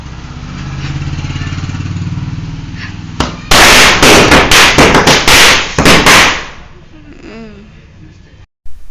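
Firecrackers set off at home during a Gauri Ganesha festival celebration, a loud close burst of rapid sharp cracks lasting a few seconds, then a faint voice after the bangs die away.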